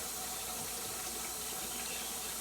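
Potatoes rinsed under a running kitchen tap, a steady close hiss of flowing water into a sink, continuous and fairly quiet with no voices.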